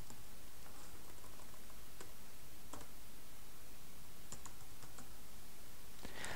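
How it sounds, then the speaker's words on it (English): Sparse clicks of computer keyboard typing, a few isolated keystrokes scattered across the stretch against a quiet, hissy background with no voices. "Then just hit return on your keyboard twice"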